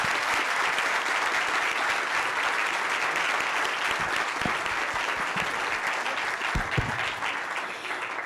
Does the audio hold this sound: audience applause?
yes